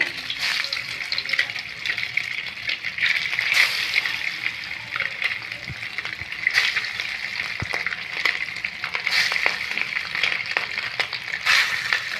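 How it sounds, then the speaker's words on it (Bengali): Eggs frying in hot oil in a Bengali kitchen for egg curry, giving a loud, continuous close sizzle with crackling, spattering surges that rise and fall throughout, with no talking. "তেলটা আমাদের হয়ে গিয়েছে, ডিমগুলো দিয়ে দেবো।"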